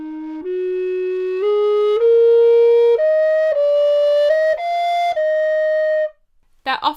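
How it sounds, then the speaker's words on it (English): A Renaissance recorder with a wide bore plays a slow stepwise melody of sustained, breathy notes with a broad, pure tone, heard alone and close before a brief faint rustle at the end. "Renaissance recorders such as this have a wide bore which gives a really broad sound,"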